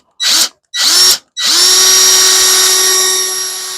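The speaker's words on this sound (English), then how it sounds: "And I just drill" Power drill boring into the wood of a round whiskey/bourbon smoker, starting a steep-angled hole about an eighth inch up from the base: two short whirring bursts, then one sustained loud whine, close up.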